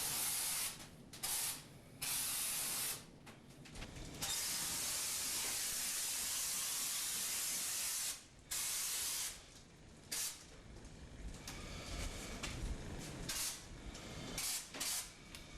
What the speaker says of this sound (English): The combined extinguishing technique with mist and continuous jets soon show extinguishing results.